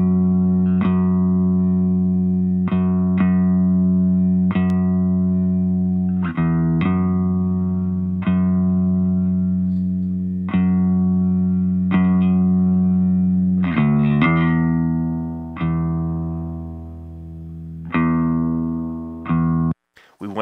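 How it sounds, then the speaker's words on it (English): Clean electric bass guitar played through a Line 6 Helix, sustained low notes changing every second or two in a steady pattern, up close and alone with no other instruments. "So here is what the bass guitar sounds like."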